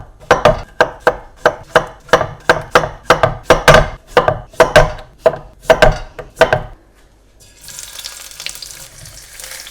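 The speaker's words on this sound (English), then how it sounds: "I am just going to thinly slice these." A knife thinly slices courgette on a cutting board in about sixteen sharp, evenly spaced chops, followed by a short stretch of running tap water at the end.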